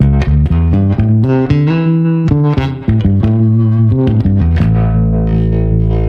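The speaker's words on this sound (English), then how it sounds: "Reverb and tremolo together. You'll notice the reverb is in front because that's typically how it was." Electric guitar through an amp with reverb and tremolo effects running together, the reverb placed ahead of the preamp, ringing out loud and sustained chords and notes that decay into a shimmering wash.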